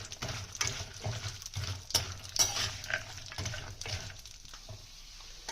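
Dry fruits roasting slowly in a pan over a low flame for makhana ladoo, with repeated scraping and stirring clinks of a spoon against the metal and a soft sizzle in between, close and moderately loud.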